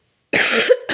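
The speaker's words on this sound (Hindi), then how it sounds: "खांसी इतनी बुरी हो रही है" A single harsh, close cough from a woman with a cold, loud and abrupt, followed by the start of another.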